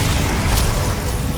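Incendio fire spell cast in Hogwarts Legacy, a short loud whooshing burst with a dull boom, dense and close, filling the brief moment without any voices.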